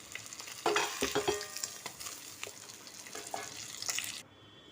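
Rohu fish pieces fry in hot oil, a continuous close sizzle with scraping and turning clatter from a spatula. It ends abruptly in near silence.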